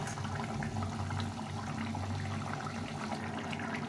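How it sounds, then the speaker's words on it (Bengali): Egg curry gravy boils in a pan, a steady close bubbling and simmering with no talk over it. "ঝোলটা ফুটে গেছে"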